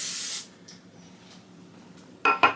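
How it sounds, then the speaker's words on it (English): Cooking spray hisses onto a donut pan in a loud, steady burst lasting under half a second, then two short, sharp spritzes follow near the end against a quiet kitchen. "I'm just going to spray this off camera so it doesn't get all over the place."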